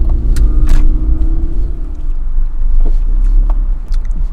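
A car pulls away from a stop sign on a road in an American residential community, a loud, close, steady engine and road rumble with a few faint clicks and knocks inside the cabin.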